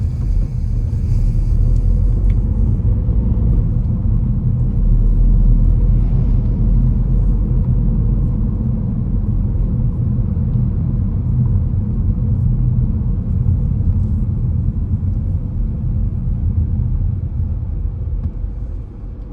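A car drives along a driving test route near Raheny and Clontarf, its steady low engine and road rumble filling the cabin at close range with no let-up, building toward about 50 km/h.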